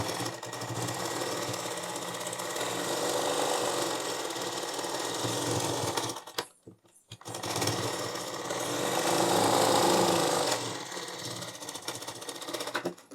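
A sewing machine rattles in a fast, steady run while stitching a blouse, pausing briefly for about a second midway before racing on again, loud and close with no voices.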